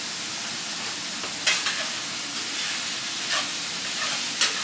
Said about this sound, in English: We only need a minute or two of stirring these around.